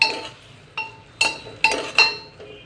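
Vegetables for sambar are stirred in a pot, with a spoon striking the metal in about five sharp, bright clinks spaced unevenly over a quiet background.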